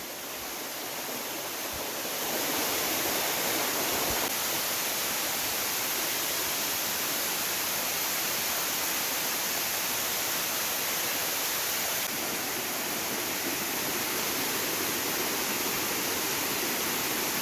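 A steady, dense roar of a waterfall fills the scene continuously, loud and close, with no voices.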